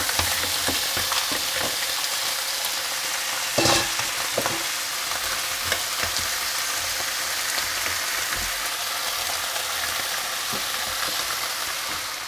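Razor clams frying in curry in a small pan, a steady close sizzle with occasional sharp clinks and stirring knocks, no talking.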